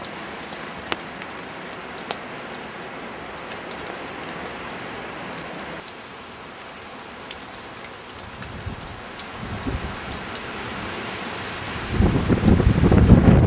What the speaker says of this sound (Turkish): Yağmurdu. Şimdi doluya döndü.